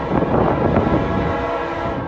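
Freight train hauled by SD70M-2 locomotives passing nearby, a loud rolling rumble with a sustained horn blast layered over it, brief and close with no talk.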